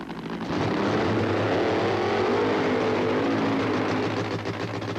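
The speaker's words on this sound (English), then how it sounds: "The long, smoky burnout to heat the tires to provide the traction for Ed the Ace McCulloch" A drag racing car at a 1985 NHRA event at IRP roars through a long, steady burnout, its engine and tire noise loud and sustained before easing at the end.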